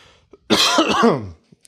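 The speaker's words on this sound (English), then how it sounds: "I'm still coughing since like December" A single harsh, rasping cough from a podcast host on a close microphone, lasting nearly a second and breaking into a throaty clearing at its end, with quiet moments before and after.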